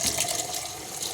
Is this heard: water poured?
yes